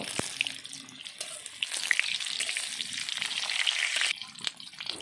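Potato pieces coated with salt and turmeric fry in hot oil in a pan over a wood fire, giving a bright crackling sizzle that swells and sputters with a few clinks.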